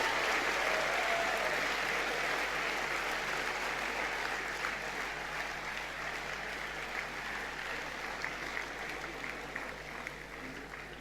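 An audience in a hall at the Gujarat Samachar Samanvay 2016 honour event for Morari Bapu applauds music coordinator Mayur Dave with steady, dense clapping that holds for about eleven seconds and fades slightly at the end.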